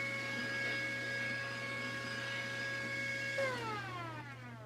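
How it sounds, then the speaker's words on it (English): A small handheld vacuum cleaner sucks up glitter from a paint kit, a steady close whine with a low motor hum and high tonal whistles whose pitch drops as the motor winds down near the end. "let me vacuum up my paint kit right here"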